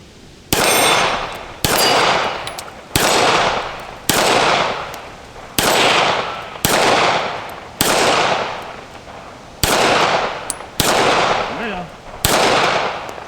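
Rounds fired from a CZ 75 B pistol, a Cold War-era design: eleven loud, sharp reports spaced roughly a second apart, each trailing off in a ringing echo, close to the shooter.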